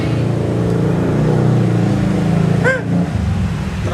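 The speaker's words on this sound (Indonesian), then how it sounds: "Aduh, ada motor nih." A motorbike rumbles close by and then fades as it passes, with a brief high whine near the end, against the noise of a casual outdoor hangout.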